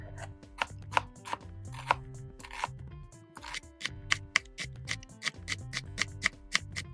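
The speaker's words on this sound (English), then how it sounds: "Just going to slice up some of this red cabbage." A knife slicing and shredding red cabbage on a cutting board for a summer salad, making a steady run of crisp, close chopping taps that grow faster and more regular toward the end, with soft rhythmic thuds underneath.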